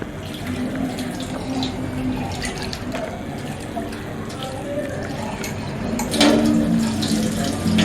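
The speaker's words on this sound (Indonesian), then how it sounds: "dibilas dengan air bersih atau air mengalir" Carrot explants are rinsed under a running tap, giving a steady, close splashing rush of water that continues throughout and swells slightly near the end, with a voice speaking faintly underneath.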